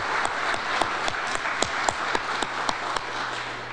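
A small audience at a New Hampshire preservation gathering claps in brief applause, with a few distinct, fairly regular handclaps standing out over a low steady hum in the room.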